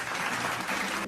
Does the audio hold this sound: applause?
yes